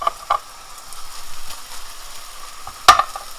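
Onion whites and pineapple hiss steadily in a hot frying pan for a quesadilla filling, a soft continuous sizzle with a brief stirring clatter near the end.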